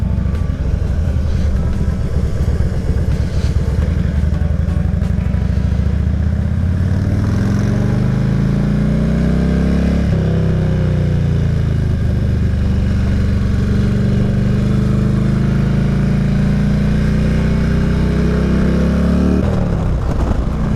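A 2000 Harley Davidson Road King motorcycle being ridden, its engine droning loud and steady throughout with gradual pitch rises and falls as it accelerates and shifts, no talk.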